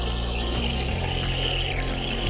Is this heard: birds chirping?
no